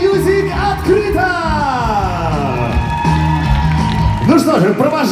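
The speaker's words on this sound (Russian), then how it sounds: "Ваши самые бурные овации" Audience cheering, shouting and whooping at a live concert show, loud and sustained with overlapping yells, a rising whoop sweep early, and a fresh burst of shouts near the end.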